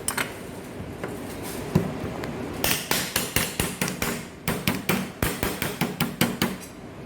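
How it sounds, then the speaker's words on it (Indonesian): Two lemongrass stalks are bruised with sharp, steady pounding blows, a run of evenly spaced thuds after a few scattered knocks, close and loud in a kitchen. "serai ini 2 batang kita keprek dulu ya"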